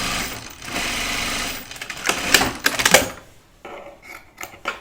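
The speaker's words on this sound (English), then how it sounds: "I sew 1/4 inch seam allowance" A sewing machine stitches a quarter-inch seam along the top edge of a project bag in fast rattling bursts, then stops, leaving quieter handling noises.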